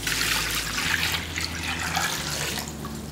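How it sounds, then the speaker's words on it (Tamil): Tap water runs steadily into a small washing machine tub, a continuous near splash and trickle filling the drum with no talk. "இப்போ தேவையான அளவுக்கு தண்ணி ஊற்றிக்கலாம்"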